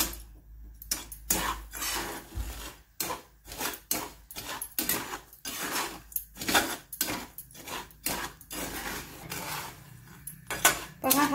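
Dry chickpeas stirred in hot salt in a pan make repeated close scraping and rattling strokes, a steady rhythm of gritty clatter with brief pauses between passes.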